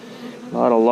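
Honeybees buzz around hive frames while nucs are made in hot weather, a close, droning hum that rises in pitch and loudness halfway through.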